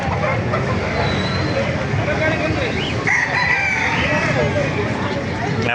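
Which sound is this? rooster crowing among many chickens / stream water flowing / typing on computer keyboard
rooster crowing among many chickens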